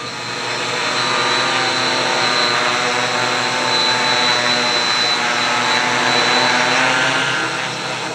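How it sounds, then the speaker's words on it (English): An HK X650F multirotor drone flies with its motors and propellers droning in a loud, steady, high-pitched whine that swells slightly and holds for several seconds. "Lots and lots of power with these motors and propellers."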